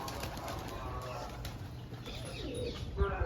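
Pigeons coo softly amid a busy outdoor background, with a brief flutter of wings near the end.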